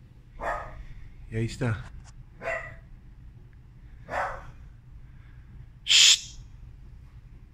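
A dog barking outdoors in a residential area of Lima, a handful of separate sharp barks spread out over several seconds, one louder than the rest, with someone speaking briefly.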